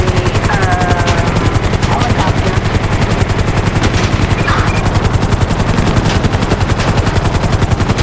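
In the video game GTA 5, a helicopter's rapid rotor chop pulses loud and steady while gunfire crackles in quick bursts around it, a dense continuous clash with no talking.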